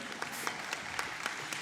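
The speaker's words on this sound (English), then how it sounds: "give a warm, warm round of applause to Dr. Sharon Freeman" Audience applause at a university awards gala, a steady wash of clapping from a crowd in a large room, even in level with a few sharper claps standing out.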